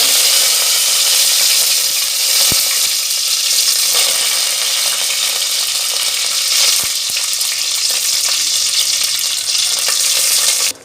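Greens fried in hot oil for a tempering give a steady, loud, dense sizzle throughout, with a couple of faint clicks, no voices.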